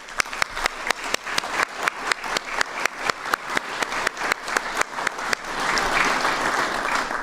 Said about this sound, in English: I want to give them a quick round of applause.